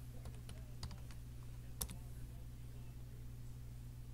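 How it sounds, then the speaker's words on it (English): Typing on a computer keyboard, a scattering of quiet keystroke clicks in the first two seconds and a sharper tap near 1.8 s, over a steady low hum, then mostly just the hum. "I'm going to type live"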